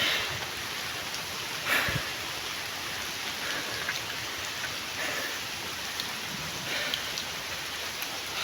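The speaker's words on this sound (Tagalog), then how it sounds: "Umuulan." Steady rain falls all around at a waterfall in Antequera, Bohol, Philippines, a dense even patter with occasional louder drops, close and continuous without voices.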